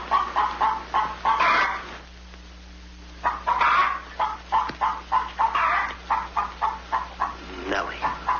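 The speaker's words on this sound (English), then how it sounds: "Lay, hen, lay." A hen clucks in a 1952 comedy film scene, giving quick rhythmic bursts of clucks in short runs with a brief pause, while people talk around it.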